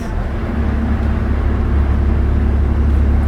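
Steady low engine rumble and road hum inside a 2019 Nova Bus while riding, a fairly quiet, constant drone with no talk.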